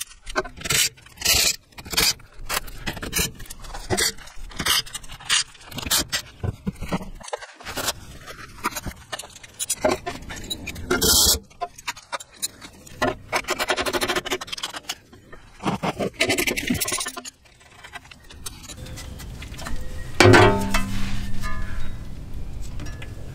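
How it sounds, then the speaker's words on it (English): Someone scrapes and scrubs the rear differential cover and gasket of a 2019-or-later Chevrolet Silverado, with repeated close, rasping strokes in uneven bursts and brief pauses, ending in a louder stretch of scraping. "So I've cleaned up my gasket and I cleaned up the inside of the differential cover as well."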